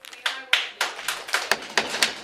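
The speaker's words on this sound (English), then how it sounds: "I asked you to stop clapping." Hands clap in a series of about nine sharp bursts, like a crowd applauding briefly at a Columbia Heights community meeting, close and fairly loud with no talk.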